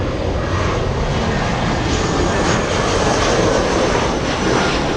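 Large jet airliner at LAX airport, a loud, steady broadband engine roar that holds close and unbroken throughout, with no talk.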